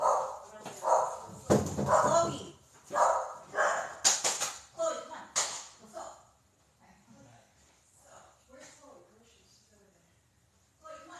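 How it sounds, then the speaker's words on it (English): A dog barks and yips repeatedly at close range in the first half, with a person's voice mixed in, then things quiet down to faint sounds. "let me get my dog to come in here so she stops barking"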